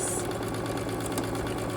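A sewing machine runs steadily as it stitches the hem of a t-shirt sweater dress, a close, even mechanical whir and rattle with no talking.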